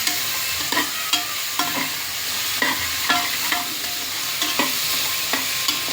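Tomatoes stirred and mashed in a hot pan for a Kerala-style gravy, giving repeated scraping and squelching strokes over a steady sizzle, close and fairly loud, with no talking.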